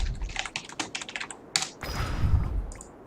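Rapid typing on a computer keyboard while building combo attacks in the game-creation tool Project Spark; bursts of close, crisp key clicks with short pauses, then a denser run of keystrokes, and no talking.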